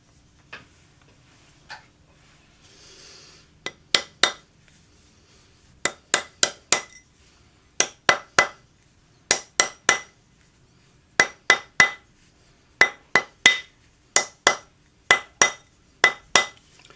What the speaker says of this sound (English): So just the rawhide hammer on your ring mandrel.